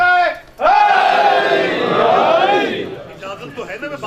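A large congregation at a Shia religious gathering in Rasool Pur Syedan, Kharian, loudly chants devotional slogans in unison after a brief lone voice. The massed chant swells for about two seconds and then fades into scattered voices.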